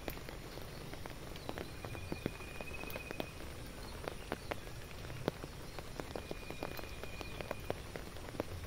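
Rain falls steadily outdoors as a quiet, dense patter with scattered sharper drops striking surfaces, continuous and even for the whole stretch, with faint distant chirps mixed in.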